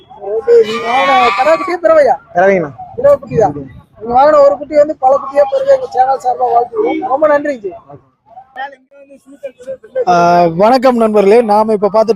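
Goat kids bleat at a Kunnathur goat market among livestock traders, their cries mixed with steady, close conversation that dominates throughout.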